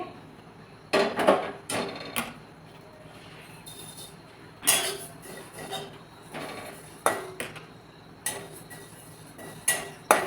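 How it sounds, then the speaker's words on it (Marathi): Cumin and coriander seeds are dry-roasted in a pan, with scattered bursts of spatula scraping and light metallic clinks separated by quiet gaps, close and moderately soft. "आता ह्याच्यामध्ये आपल्याला थोडं थोडं जिरे आणि धने भाजून घ्यायचे आहेत"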